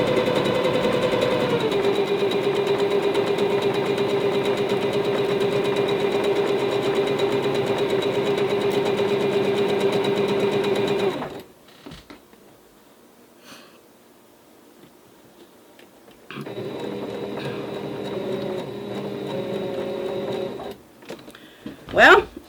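A sewing machine stitches a quilt with a long, steady, close mechanical hum, stops for a quiet pause, then resumes for another sustained run before a few clunks at the end.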